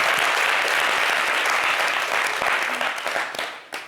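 Studio audience applauding on a television talk show set, a dense, loud burst of clapping that holds steady before thinning out and fading near the end.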